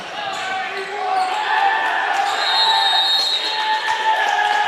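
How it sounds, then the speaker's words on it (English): Fans at a varsity high school basketball game, Rabun County at Franklin, make a steady crowd roar under the court sounds, with a whistle tone running through and a commentator speaking over it. "Now the fans are starting to make some noise below us."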